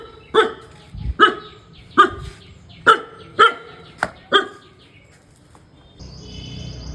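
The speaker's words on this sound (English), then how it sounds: "that black dog or beach, whatever you want to call it, started barking at me" A black dog barks at someone standing near a house at night, about seven sharp, fairly close barks spaced roughly half a second apart, then quiet with a faint hiss at the end.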